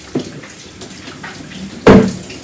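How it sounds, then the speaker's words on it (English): Tap water runs over dyed fabric during rinsing at a sink. A steady splashing hiss carries light sloshing, and a sharper splash comes near the end. "we just rinse it till it runs clear"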